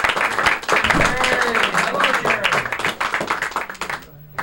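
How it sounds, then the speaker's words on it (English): An audience gives a warm round of clapping for magician Jerry Andrus, dense applause with cheering voices mixed in, steady and then tapering off abruptly at the end. "How about a gigantic round of applause for Jerry Andrus?"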